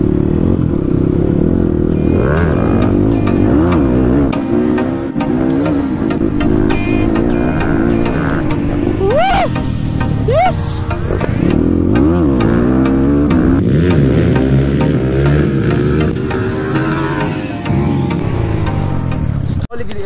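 A dirt bike rides on a motocross practice track, its engine loud and close. It drones steadily with repeated revving swells and two sharp rising revs near the middle, plus a little mechanical clatter.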